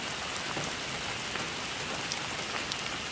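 Heavy rain shower pouring steadily, a dense, continuous hiss of drops on surfaces with no pauses or other sounds.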